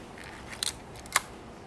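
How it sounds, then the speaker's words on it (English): Two crisp mechanical clicks from the shutter of a Zeiss Ikon Icarex 35S BM 35mm film camera with a Carl Zeiss Tessar 50mm f2.8 lens, close and sharp against a quiet room. "So the shutter, as you can see, it works."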